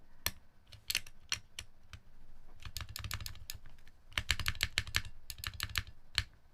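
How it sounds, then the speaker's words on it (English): Clicky cream mechanical keyboard switches on a gold Arc60 board are typed on close up, giving crisp irregular key clicks in bursts along with heavier spacebar strikes and brief pauses, with no talking. "The spacebar does click"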